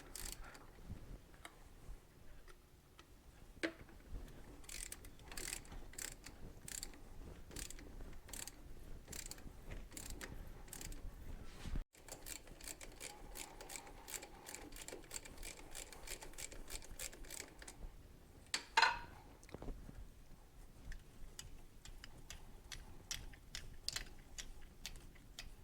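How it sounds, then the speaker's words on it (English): A starter tap cutting threads in a Suzuki TS250 motorcycle frame, steady repeated ratcheting clicks and metallic creaks, close and fairly quiet, with brief pauses as the tap is worked back and forth. "we're all the way in with the starter tap"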